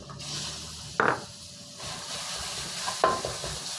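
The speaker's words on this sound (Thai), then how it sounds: "ในช่วงผัดพริกกับกระเทียม ผัดให้พริกนี้กลิ่นหอมกลิ่นฉุนก่อน" Chili and garlic stir-fried in a pan over medium-low heat, with a steady soft sizzle and two sharp scraping strokes from the spatula, heard close up.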